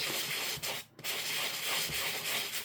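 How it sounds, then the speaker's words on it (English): Fine P240 sandpaper gently rubbed over a sheet of watercolour paper, a close, continuous soft hiss of scratchy strokes with one brief pause near the start. "I'm using some P240 sandpaper, very, very fine, and I'm gently going to sand"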